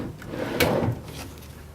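A wooden drawer in a small Four Queens hotel room in Las Vegas slides open or shut with one short rubbing scrape close by, and no one speaks.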